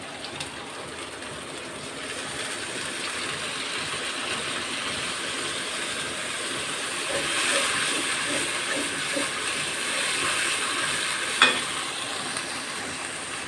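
Water poured into a hot pan of spices on a home stove, giving a steady broad sizzle and hiss that swells slightly midway, close and continuous without talking.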